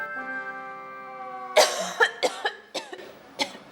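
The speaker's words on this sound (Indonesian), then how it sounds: "Gua kan juga lagi batuk." A person coughs several times in quick, sharp bursts after a short stretch of steady tonal sound, close and fairly loud, with no talk.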